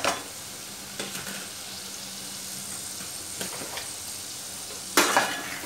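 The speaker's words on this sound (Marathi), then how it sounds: "भाज्या मसाल्यात परतून घ्यायच्या सगळ्या, वाटाणा, फ्लावर, गाजर" Cauliflower, peas and carrots sautéing in spices in a pan: a steady soft sizzle with occasional sharp scrapes and clinks of a spoon stirring against the metal.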